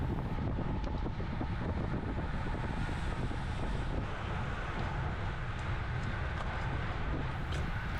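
Strong headwind buffeting a rider during a winter criterium cycle race at Croft Circuit in the UK, a loud, steady rumbling roar of wind across the microphone throughout, with no voices.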